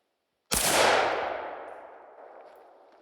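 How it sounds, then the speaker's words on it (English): One sharp, loud shot from a 7.62x25 Tokarev handload with Longshot powder cracks after a brief silence, then rings and decays slowly over the next few seconds with no talking. "Well, I got 3 shots."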